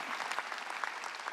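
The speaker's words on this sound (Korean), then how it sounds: "박수해요." Applause from a church congregation during a Sunday worship service at a Korean church, a fairly quiet, steady patter of many hands clapping throughout the short moment.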